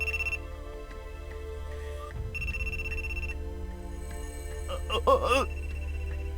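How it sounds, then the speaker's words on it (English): A cell phone rings in a visual novel game, lying in the grass. It plays a steady electronic ringtone melody over a low hum, then a warbling, pulsing tone swells louder toward the end. "The cell phone lying in the grass continues ringing"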